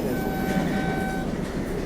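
An MBTA train pulling out of a station, a steady loud rumble of rolling wheels and motors with faint high whine tones throughout, heard close by with no talk over it.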